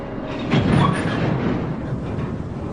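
A train rumbles through a rail yard in a steady, loud rolling noise with a faint clatter of wheels and a brief surge early on, with no voices over it.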